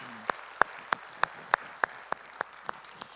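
Slow, evenly spaced claps ring out in a quiet church after a Sunday worship hymn, about ten sharp hits at a steady rhythm with faint room tail between them.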